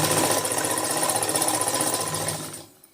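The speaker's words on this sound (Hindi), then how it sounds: "इस तरह बिल्कुल किनारे को सिलाई लगा देनी है" A sewing machine runs steadily while stitching along the edge of a four-panel salwar, its loud mechanical whir and rapid needle chatter continuing without pause before stopping abruptly near the end.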